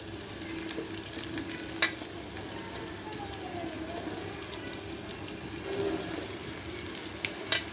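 Cauliflower and potato pieces frying in hot oil give a steady, close sizzle throughout, with a few faint clinks of a utensil and no talking.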